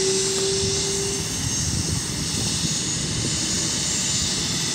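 A helicopter lands near a house, its engine and rotors producing a loud, continuous roar with a rapid thumping pulse throughout.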